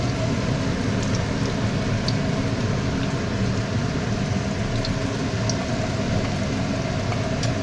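Fritters frying one by one in hot oil on a low gas flame make an even crackling hiss, constant and nearby, with occasional small spits of oil.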